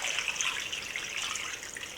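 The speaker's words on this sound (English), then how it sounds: "I'll pour some water in." Water pours steadily into a pressure cooker holding cowheel and pigtail, a continuous close splashing gush with no voices.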